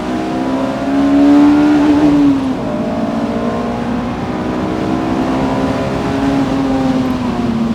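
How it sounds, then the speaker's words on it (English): A Honda S2000's 2-litre F20 four-cylinder revs up loud and close, rising to a high-pitched peak, then settling into a sustained rev with no talking. "It's a masterpiece of an engine. Just listen to this."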